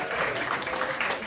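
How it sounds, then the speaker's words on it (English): A comedy club audience applauds in a brief, dense burst of clapping, steady and fairly loud throughout. "so clap it up for that."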